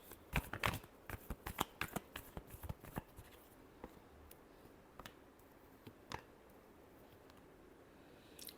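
A deck of tarot cards being shuffled by hand, dense quick riffles and clicks at first, then sparser taps and flicks, close and soft, with no voice.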